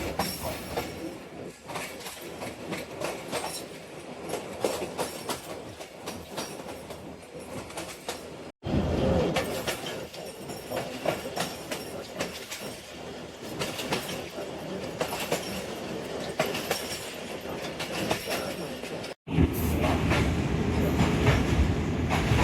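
The Sialkot Express racing through open countryside at dawn, heard from aboard: a sustained loud rumble and rattle of wheels on track with clickety-clack rhythm and occasional wheel squeal, broken by two brief dropouts.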